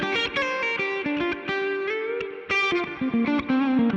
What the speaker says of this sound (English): I've just got a slapback delay and a bit of a plate reverb